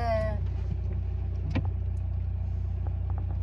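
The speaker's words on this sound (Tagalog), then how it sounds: "Look at the traffic my love." Car traffic on a busy road on Easter Sunday, a steady low engine rumble from inside or near a vehicle, with a brief passing whoosh midway and faint clicks.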